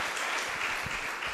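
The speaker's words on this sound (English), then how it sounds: "can we give another round of applause to Prof?" Continuous audience applause for a professor at a university multidisciplinary conference, even clapping from a crowd in a hall, moderately loud throughout.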